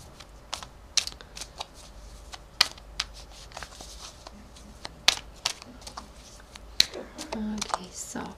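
Tarot cards being shuffled for a love reading, a run of crisp riffling and snapping bursts with short pauses in between, close and fairly quiet over faint background noise.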